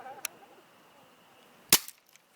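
A BB gun fires at a drink can with one sharp, loud crack and a brief rattle after it, preceded by a fainter click in an otherwise quiet setting.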